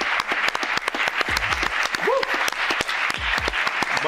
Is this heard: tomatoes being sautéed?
no